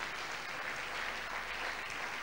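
A church congregation applauds during a worship service, a dense, steady wash of clapping that holds evenly for a couple of seconds without any talk over it.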